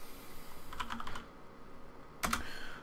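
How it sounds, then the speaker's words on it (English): Two short bursts of keystrokes on a computer keyboard in a quiet room, a quick cluster of clicks followed after a pause by a few more taps. "So simply typing curl in the command line"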